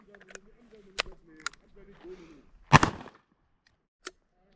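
Gunshots at an outdoor shooting range: one sharp, loud report stands out among a few quieter pops and clicks, with people talking just before it.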